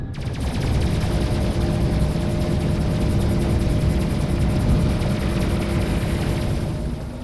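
Rapid weapons fire crackles without pause through a space battle in the video game Endless Sky, a dense, loud stream of shots over a low engine rumble.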